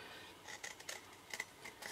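Scissors snip through card for a business card holder, giving a few quick, faint crisp cuts in a quiet room with no voices.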